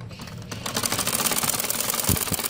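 A sewing machine runs steadily, stitching the hem of a salwar leg opening with a rapid, even mechanical whir that starts softly and grows louder, close up, with a couple of dull knocks near the end.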